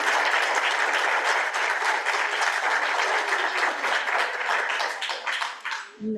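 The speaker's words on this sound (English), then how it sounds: "give Eva another round of applause" An audience at a university open house applauds after a student's short talk, a full, steady burst of clapping that thins and fades out over the final second.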